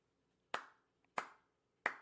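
Three sharp hand claps spaced about two-thirds of a second apart, each a crisp close slap with a short decaying ring in an otherwise quiet room, with a faint tap between the second and third.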